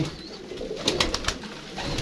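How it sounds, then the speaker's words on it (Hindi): Pigeons coo softly nearby in low, rounded murmurs, with a few brief rustles and flutters in between. "कबूतर शबूतर दाना पानी खा रहे हैं"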